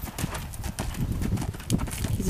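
Hooves of a big-striding school horse clip-clop steadily under a rider during an arena schooling session, close and rhythmic, with faint background noise.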